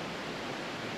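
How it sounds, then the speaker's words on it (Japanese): A waterfall fed by spring water beside a temple approach path in Japan gives a dense, steady rushing roar, close and continuous throughout. "参道の脇には荘厳な滝が。"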